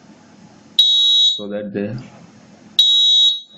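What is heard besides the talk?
fire alarm robot sounding, pitch rising with heat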